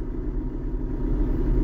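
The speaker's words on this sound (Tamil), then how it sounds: "இந்த காரில் வரக்கூடிய இன்ஜின் பார்த்தீங்கன்னா ஹெம்ஹாக் இன்ஜினு." A Mahindra-style 2200 cc mHawk diesel engine in a used car runs steadily, a low, continuous rumbling drone with no one speaking over it.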